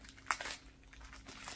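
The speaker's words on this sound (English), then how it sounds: "So this is covered in plastic, so I'm going to actually take that off if I can." Plastic wrapping being pulled off a Temu purse, heard as close, soft crinkling and rustling with one sharper crackle near the start, continuing quietly throughout.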